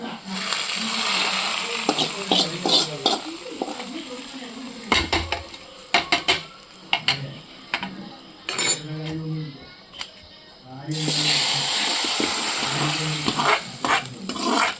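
A spoon scrapes and clinks repeatedly against a pot as roasted-coconut chicken curry with fried onions is stirred, with intermittent sizzling and a voice talking in between.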